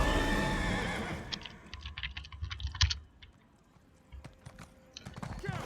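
A horse in the video game ESO, ridden by the player, lets out a whinny at the start. Soft hoof clops and scattered keyboard clicks follow over a quieter, sparse background.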